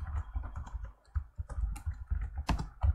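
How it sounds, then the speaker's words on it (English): Fingers tap a computer keyboard entering a password, a quick irregular run of close, soft key clicks with brief pauses. "Yeah, so I'm gonna type mine,"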